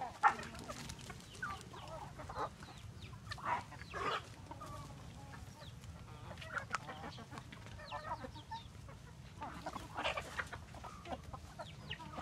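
Roosters and hens on a poultry farm cluck and call over one another at a moderate distance, with scattered bursts of crowing rising above a constant low hum of the flock.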